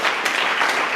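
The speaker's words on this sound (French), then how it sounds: "Acclame la merveilleuse parole de l'Éternel." A church congregation claps in a dense, steady burst of applause that fills the space evenly, loud and sustained with no clear pauses.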